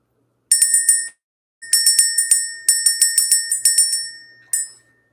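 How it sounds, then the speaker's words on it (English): A small bell is struck repeatedly in quick rhythmic bursts to clear energy at the start of a spiritual reading, bright ringing tones in three clusters plus a final single ring, clear and close with no talking. "We're going to go ahead and ring the bell."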